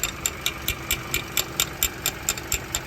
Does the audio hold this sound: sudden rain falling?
no